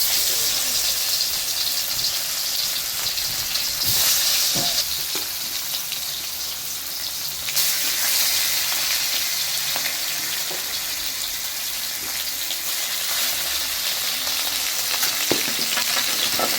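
Sea fish (morma) sizzle and fry in a hot wok, a loud, continuous crackling hiss with occasional stirring clatter and brief bursts of spitting oil.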